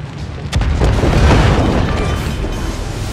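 A loud booming explosion as an enemy cruiser is destroyed in World of Warships, a sudden blast followed by a long rumbling roar that slowly fades, with no talk.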